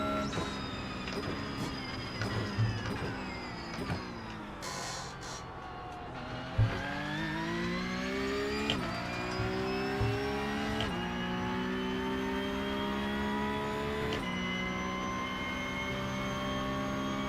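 A Porsche race car engine on a track revs hard and climbs repeatedly in pitch, dropping sharply between gear changes. The sound is loud, continuous and close-sounding for about seventeen seconds, with no talk over it.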